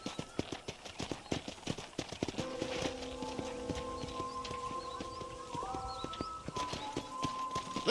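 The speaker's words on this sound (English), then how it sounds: "I picked out a fine horse for you." Horse hooves clip-clop at a steady walking pace in the Western video game Red Dead Redemption, close and distinct, with soft game music tones and faint bird calls behind them.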